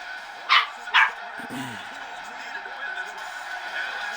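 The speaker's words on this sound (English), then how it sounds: "I hate that bark, man. It's like ear piercing." A dog lets out two sharp, ear-piercing barks close to the microphone, about half a second apart, followed by a low whimpering sound over a steady indoor hum.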